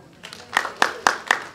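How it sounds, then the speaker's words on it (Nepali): Scattered audience clapping at a Nepali film song release event, a handful of distinct claps building into light applause over a second and a half. "यी दुई नामलाई ताली त बजाउँ।"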